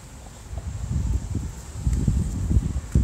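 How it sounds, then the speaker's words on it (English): Gusty wind blows outdoors in Minnesota, buffeting the microphone with low rumbling surges that rise and fall throughout, growing stronger toward the end, with no one talking. "Always windy in Minnesota."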